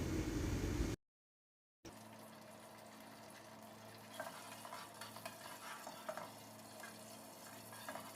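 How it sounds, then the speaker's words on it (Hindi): Cumin seeds fry in hot oil in a pan, giving a soft, steady sizzle with light stirring scrapes after a brief cut to silence, and no talk. "और ज़ीरे को थोड़ा सा फ्राई कर लेंगे, बिल्कुल 10 से 15 सेकंड के लिए"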